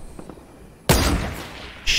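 Fortnite gunfire: after a quiet stretch, a loud burst of shots breaks in and keeps up, with a second sharp blast near the end.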